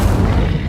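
The Incendio fire spell bursts in the video game Hogwarts Legacy, a short, loud, dense whoosh and boom that fills the brief moment and leaves no pause.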